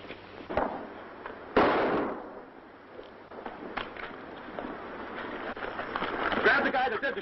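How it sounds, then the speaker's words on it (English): Gunfire in a 1943 western shootout: a few sharp, loud cracks with rough bursts between them, rattling and echoing over background commotion and murmuring voices. "Grab the guy that did the shooting."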